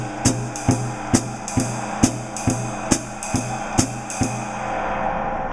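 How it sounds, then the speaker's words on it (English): A jazz drum set is played out of balance, a loud thumping bass drum hitting in a steady, regular pattern while the ride cymbal sits soft and shimmering underneath, close and dry with no talk. "meaning the ride cymbal is too soft and the bass drum is too loud"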